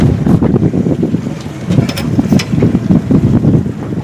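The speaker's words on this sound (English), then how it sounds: "We were having a hard time in that wind." Strong wind buffets a fishing boat on the water during trout fishing, a loud, steady roar of wind noise with gusty swells and faint clicks throughout.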